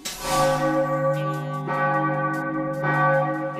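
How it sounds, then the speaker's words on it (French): Notre-Dame cathedral's church bells ring loud and close, a sustained tolling with strong struck accents about every 1.3 seconds, overtones hanging between strikes, with no voices present. "c'est vrai que les cloches de Notre-Dame sonnent toujours à l'heure pile"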